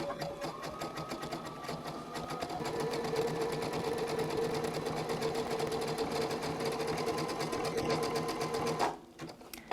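A sewing machine runs nearby at a steady, rapid clatter while stitching two small pieces of quilt batting together, then stops abruptly near the end.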